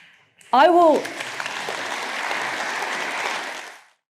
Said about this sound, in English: That's how you get a big round of applause at a Tory hustings.